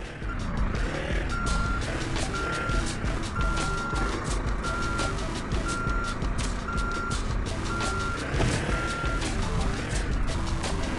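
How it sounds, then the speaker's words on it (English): A forklift in a video game gives off steady, evenly spaced reversing beeps, about eight regular tones over a continuous rumbling engine drone. "drag the crates using the forklift"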